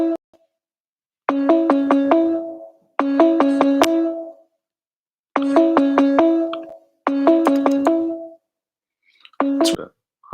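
A video call rings out in repeated short bursts of a bright, chiming ringtone, each a few notes long with brief silent gaps between them, loud and close.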